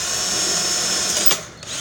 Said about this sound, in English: He's gonna start drilling through those holes